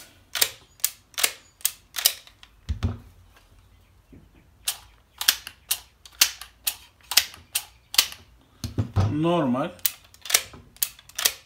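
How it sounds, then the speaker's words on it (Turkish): Mechanical clicks and clacks from a Tisaş Zigana Sport pistol as its magazine is released and dropped, a rapid series of sharp close-up snaps, with a brief voice partway through. "Şarjör düşürmesi"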